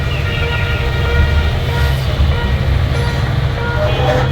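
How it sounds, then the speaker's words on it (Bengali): A train rumbles past near Gendaria station, a loud, steady low-frequency roll with rattling carriage noise and faint higher squeals, sustained throughout at close range. "এখানে সারাক্ষণ কিছুক্ষণ পর পর রেলগাড়ি যায়, ভিডিওর মাঝখানে শব্দ পাবেন, ওই যে রেলগাড়ি যাচ্ছে"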